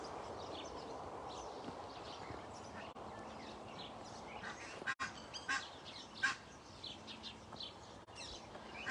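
Faint honking of geese carries across open air, scattered calls rising and falling over a soft background hiss, with a few louder honks near the end.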